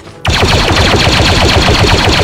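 Sustained rapid automatic gunfire from the VR game Blade and Sorcery, loud and close, a continuous burst of closely spaced shots that starts abruptly and runs to the end.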